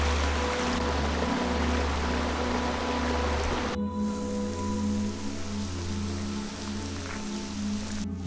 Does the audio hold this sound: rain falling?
yes